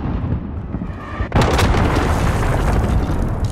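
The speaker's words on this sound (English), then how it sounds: "Missile away." A missile launches and explodes in Call of Duty: Modern Warfare, with a sharp blast followed by a loud, sustained rumbling roar that fills the rest of the moment.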